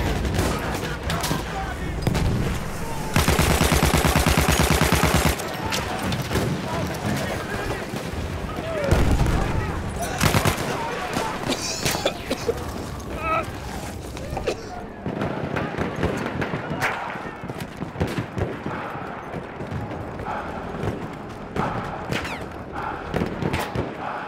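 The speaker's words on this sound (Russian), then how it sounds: "Граната пошла!" Grenade blast and bursts of gunfire in the shooter game Battlefield 1, a dense crackling volley near the start followed by scattered shots and booms, with a player shouting over the chaos.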